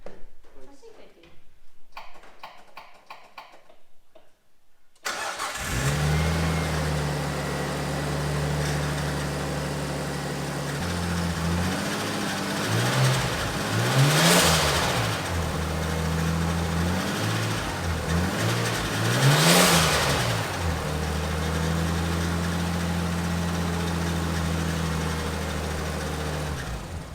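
A Nissan R33 Skyline engine, fitted with a turbo that has a boost leak, catches and settles into a steady, loud idle, then revs up and down in several swelling blips, close by after a few seconds of quiet rustling.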